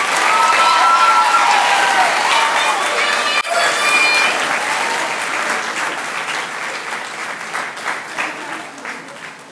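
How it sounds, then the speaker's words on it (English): A crowd at an 8th grade commitment ceremony at Harlem Village Academies gives a loud, sustained round of applause with some cheering, holding strong throughout and easing slightly toward the close. "we deserve to give ourselves one huge round of applause"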